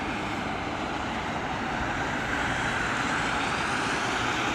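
A jet aircraft on approach to land at London Heathrow in wet weather, a steady broad roar from overhead with no breaks, holding level for several seconds.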